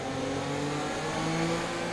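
A Formula 1 race car engine in the F1 2020 game, with a worn MGU-H, drones steadily at a sustained high pitch, holding an even, loud tone with slight pitch shifts throughout.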